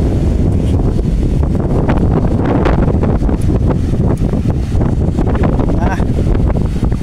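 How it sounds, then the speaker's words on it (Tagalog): Strong wind off a whitecapped sea buffets the microphone in a constant loud roar, with a voice speaking faintly beneath the gusts. "malakas na rin ang hangin"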